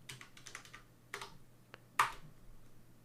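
Several quick keystrokes on a computer keyboard in short bursts, then a sharper single key press near the end, close and fairly quiet with no talking.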